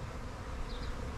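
A honeybee swarm gathered after swirling through the air, giving a steady, dense buzz of many bees that is close and fairly loud, with no voices over it.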